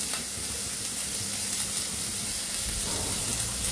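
Chopped onion frying in a pan with vegetables for a monsoon soup, giving a steady, close sizzle with faint stirring, with no one talking.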